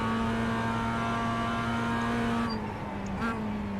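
A Mazda MX-5 Cup race car engine in the iRacing game at Charlotte Motor Speedway's Roval hums at a steady high drone, then dips and shifts as it downshifts near the end, loud and continuous.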